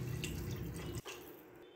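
About one and a half litres of water pours into a pressure cooker holding beef paya, a loud splashing gush for roughly a second before it cuts off, leaving a faint watery trickle.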